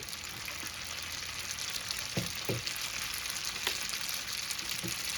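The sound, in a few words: pasta tossed with garlic and bacon frying in pan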